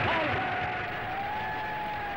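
Applause from a crowd at a formal dinner follows a toast to Lloyd George, a steady patter of clapping that fades slightly, with a faint tone running underneath.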